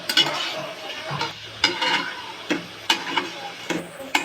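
Tomato mash being stirred and mixed with salt in a pan, with repeated spoon scrapes and soft clacks in an uneven rhythm over a light sizzle, close by and with no talking.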